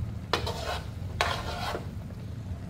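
Tender stewed beef shank being lowered into a pot gives two short scraping clatters of metal against the pot, close and distinct, with quiet gaps around them.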